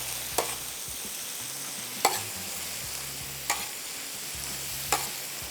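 Onion and tomato masala being stirred in a pan while making tawa keema kebab, with four soft, evenly spaced scrapes of the spoon over a faint, steady sizzle and no talking.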